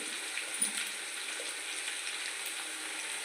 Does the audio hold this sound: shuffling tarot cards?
no